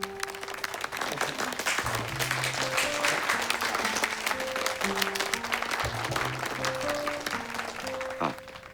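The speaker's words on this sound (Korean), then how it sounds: "박수." Sustained applause from an audience at the introduction of a new general manager in a Korean baseball drama, steady and dense throughout, with background music tones running underneath.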